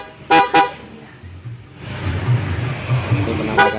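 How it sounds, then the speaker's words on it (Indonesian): A loud aftermarket horn on a Honda PCX scooter gives two quick bright toots, then a rumbling pause before one more short blast, all close and sharp. "Ini penampakan dari sebuah klakson."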